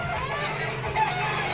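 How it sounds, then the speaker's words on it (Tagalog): Chickens clucking, a run of short clucks over a steady background murmur, moderately loud and close, with no talk heard. "Sabak ng mga manok."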